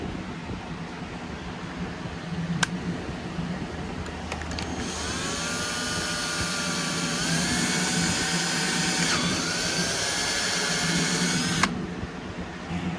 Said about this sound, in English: then we'll go and drill a pilot hole to insert those threaded inserts